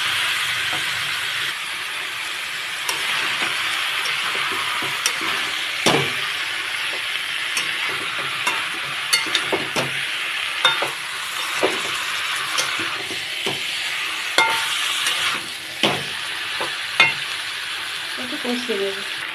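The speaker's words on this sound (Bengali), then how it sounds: "একটু কষিয়ে নেব।" Jackfruit, spinach and prawns stir-fried in a pan give a steady sizzle and hiss, broken by repeated clicks and scrapes of stirring, loud and close without any talk.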